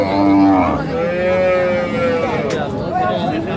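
A cow at a cattle market lets out a long, loud, close moo that wavers in pitch and trails off, with a second lowing call following.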